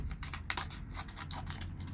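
Small everyday-carry scissors make quick, faint snipping and scraping sounds up close, a rapid series of clicks in an uneven rhythm, with no voices.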